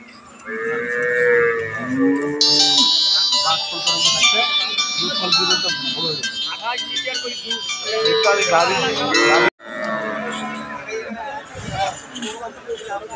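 A Holstein Friesian dairy cow at the Ambari cattle market lows loudly and repeatedly, with long drawn-out moos over a busy background of crowd babble, while people talk nearby.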